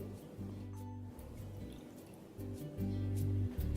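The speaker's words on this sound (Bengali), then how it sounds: "এবার এই ভিনিগারটাকে আমি অল্প একটু জল দিয়ে ডাইলুট করে নেব।" Water pours into vinegar to dilute it with a soft, close trickle and dribble that grows fuller toward the end.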